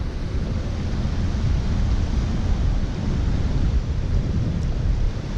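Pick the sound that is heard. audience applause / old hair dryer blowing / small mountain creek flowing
small mountain creek flowing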